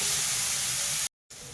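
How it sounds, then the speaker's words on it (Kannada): Onions frying in a pan: a steady, bright sizzling hiss fills the moment, broken by a short complete gap before the sizzle resumes. "ನೋಡಿ ಈರುಳ್ಳಿ ಚೆನ್ನಾಗಿ ಫ್ರೈ ಆಗ್ತಾ ಇದೆ"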